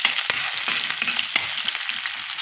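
Onion and green chilli sizzle steadily as they fry in a pan, a continuous close crackle with a few sharper pops and stirring scrapes, no talking.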